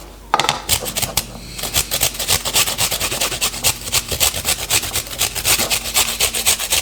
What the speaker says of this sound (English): Gonna grate this because I want to get very small pieces in there.